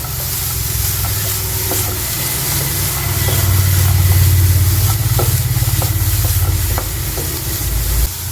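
Carrot and capsicum pieces sautéed in a pan, a loud continuous sizzle with occasional spoon clicks as the vegetables are stirred, steady and close, with no speech.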